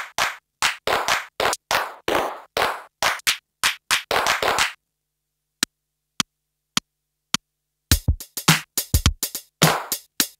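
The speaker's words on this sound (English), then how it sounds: "Next, I've got this clap sample, and I'll navigate to pitch and multi-mode and set up some different pitches," Single clap sample on an Isla Instruments S2400 sampler, triggered as a rapid run of sharp claps at shifting pitches, then a sparse few isolated hits after a silent gap, then another dense burst of claps.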